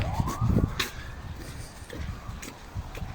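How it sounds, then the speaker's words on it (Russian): An ambulance siren wailing along a street in central Yakutsk, its rising and falling tone fairly faint and distant beneath traffic rumble and street noise. "Что там скорая?"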